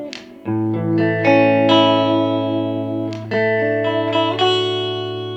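Clean-tone electric guitar notes and chords ring out one after another through an amp, drenched in reverb so each tone lingers and blends into a long shimmering tail.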